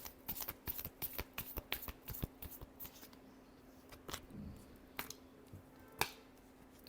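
Tarot cards are shuffled by hand in a run of crisp, rapid riffling snaps and flicks, irregular and close, ending with a few sharper separate slaps.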